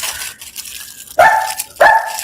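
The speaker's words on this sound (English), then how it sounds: "The other dog barked like crazy." Two sharp dog barks ring out close and loud, spaced about half a second apart, rising from a quieter indoor background at a country homestead.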